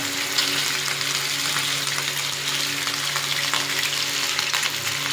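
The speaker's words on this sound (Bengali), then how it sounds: "আস্তে আস্তে করে মাছ ভাজাটা হোক" Katla fish frying in hot oil, a loud, dense, continuous sizzle and crackle heard up close, steady throughout with no talking.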